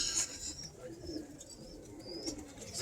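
Hens cooing in a pigeon loft kit box during a morning routine, soft overlapping coos with faint chirps and a brief wing flutter at moderate distance, a low voice murmuring underneath.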